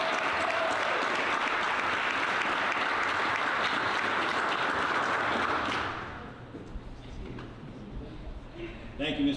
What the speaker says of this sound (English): Let's give Mr. Bernard a round of applause.